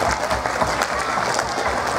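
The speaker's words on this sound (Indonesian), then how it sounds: "tepuk tangan untuk SMP 7 Jambi." Junior high school students at SMP 7 Jambi clapping together during an anti-drug campaign talk, a brief dense burst of applause, loud and close throughout.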